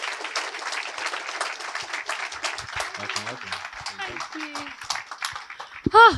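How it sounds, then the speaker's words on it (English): An audience at an event claps and cheers to welcome a speaker onto the stage, a steady wash of applause that swells and ends with a brief loud bump near the close. "So, with a loud round of applause, let's please welcome Felicity to the stage."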